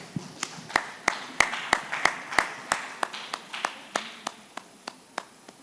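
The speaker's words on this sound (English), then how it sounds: "Please, a round of applause for our panelists one more time." Audience applause for panelists at an investor forum: sparse, slow hand claps from a small crowd, a steady run of sharp individual claps that thins out toward the end.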